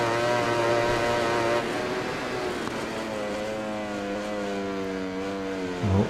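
Ducati racing motorcycle engine in MotoGP 20 screams at high revs, its pitch sliding up and down through gear changes, loud and continuous with a sharp shift near the end.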